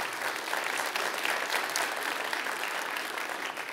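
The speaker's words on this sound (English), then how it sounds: "Let's give them a big round of applause for being here too." Steady audience applause at a Fort Worth civic gathering, a dense even patter of many hands clapping at moderate volume throughout, with no talk over it.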